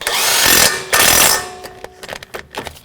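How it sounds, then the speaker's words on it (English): Impact-style power tool tightening a strut base bolt on a 2011-2018 Volvo S60 with a 15mm socket on a 1/2-inch drive, two loud close bursts of roughly half a second each, followed by quieter clicks and rattles. "15mm socket, 1/2-inch drive. We're going to snug it right up, then we'll torque it."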